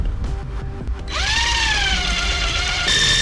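A power drill spins up and bores steadily through a thin wooden board, its high motor whine rising then holding close and loud over background clatter.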